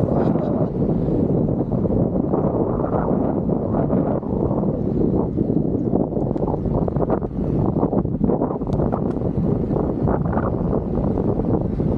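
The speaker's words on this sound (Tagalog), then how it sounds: "Grabe lakas ng hangin guys." Strong wind roars steadily at the seaside in Al Wakrah, a loud continuous gusting rush across the microphone that never lets up, with no clear voices over it.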